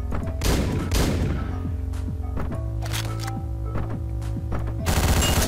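Rapid gunshots from the video game Hotline Miami, with loud sharp bursts of automatic fire in quick succession, separated by short gaps and set over a pulsing music backdrop.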